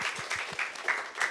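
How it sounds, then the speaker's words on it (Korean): Audience at a Bechdel Day film talk event applauds, moderately quiet and a little distant, with a few distinct claps at first settling into a loose patter that swells at intervals. "박수 부탁드립니다"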